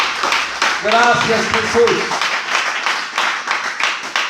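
Church congregation applauding for God during a Spanish-language sermon, steady clapping throughout with voices and singing-like tones over it in the first half, someone speaking briefly near the start.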